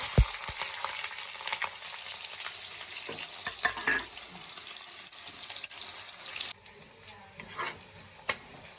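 Onion dropped into hot oil with garlic fries in a steady, close sizzle, with a few brief clinks and stirring sounds over the continuous crackle.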